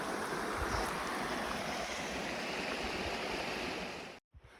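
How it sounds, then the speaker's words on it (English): Running water of a stream along a bike trail, a steady close rushing and splashing flow that fills the whole stretch before cutting off abruptly at the end. "One of the best parts about this trail is the running water here. You can just hear how beautiful it is."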